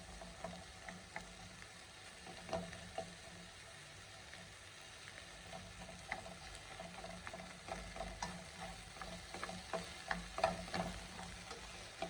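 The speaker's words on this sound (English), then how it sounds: "So you need to stir fry your okra properly." Okra stir-fries in hot oil in a pan, a soft continuous sizzle broken by scraping stirs and light clinks of a utensil, quiet and close with no talking.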